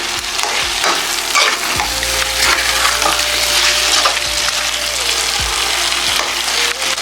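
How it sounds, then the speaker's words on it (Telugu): Biryani masala frying in a pan under constant stirring, a loud close sizzle running throughout with repeated scraping and clinking strokes of the spoon against the pan bottom, no voices. "కలుపుకుంటూ ఉండాలి, లేదా ఇలాగ అడుగు అంటిపోద్ది"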